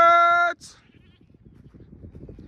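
A long, loud, wavering bleat from a goat on a family-owned farm opens the scene, followed by a soft scuffle and low rustling, shuffling noises nearby.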